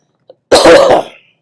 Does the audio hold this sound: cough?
yes